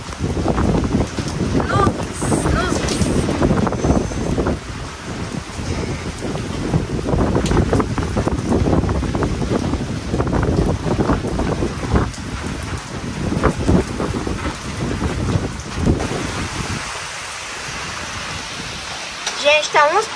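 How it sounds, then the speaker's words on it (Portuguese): Strong gusting wind during a sudden storm in the countryside buffets the microphone with a heavy, continuous roar that swells and eases; a voice speaks over it at times. "que vento forte, viu?"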